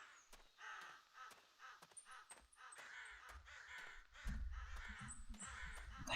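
Crows and ravens caw repeatedly in a theHunter: Classic game forest, harsh calls in an irregular rhythm over steady ambient wind, a low rumble rising near the end.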